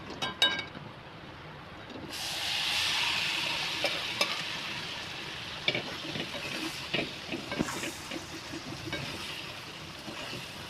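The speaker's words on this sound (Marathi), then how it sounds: "आता कढी आहे ना ते तेलामध्ये चांगले परतून घ्यायचं" Goat liver sizzles as it fries in hot oil spiced with garam masala and salt, a steady close crackle after a quiet start, with the scrape and clatter of a spoon stirring the pan.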